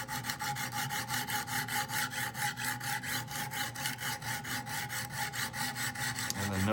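A Hinderer knife is sharpened on Wicked Edge stones with an up-and-down scrubbing motion, making a rhythmic, rasping rub that repeats in quick, even strokes, close and alone.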